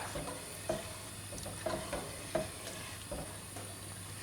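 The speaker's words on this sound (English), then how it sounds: "And then we're just going to give that a stir." Washed rice and tur dal being stirred in a pot for khichdi, a few soft scraping strokes with faint clinks spread over a low steady background hum, fairly quiet and with no talking.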